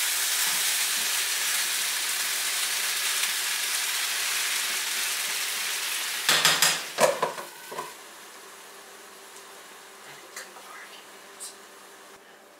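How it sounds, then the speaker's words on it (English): Constant sizzling of potatoes frying in a pan alongside Spam, with a burst of louder crackling and clatter midway before the sizzle quiets down. "So now the potatoes are frying, cooking, steaming."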